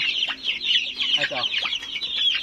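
Young free-range native and upgraded native chickens, about a month old, cluck and chirp continuously in a close, busy chorus of overlapping calls.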